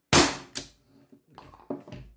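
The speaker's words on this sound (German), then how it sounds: "So, nächster Schuss." A Walther PDP Compact T4E .43 calibre CO2 air pistol fires one sharp shot, followed by a second crack and then fainter clicks and handling noises nearby.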